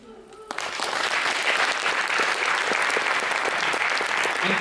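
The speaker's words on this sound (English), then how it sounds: "keep that applause going for Joanna Mason" Loud, dense audience applause fills a room after a young poet's reading at a poetry audition in Birmingham's library, starting abruptly after a brief quiet moment and holding steady throughout.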